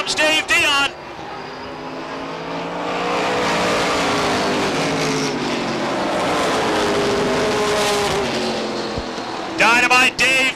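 Stock cars at Beech Ridge Motor Speedway in 1991 roar down the back straightaway in a loud, sustained engine drone that swells and fades, with a voice breaking in briefly at the start and end.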